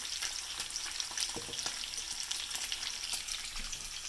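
Good quality bacon fries in a good pan over medium to medium-high heat, giving a steady dense sizzle with scattered pops and crackles close by; no talking.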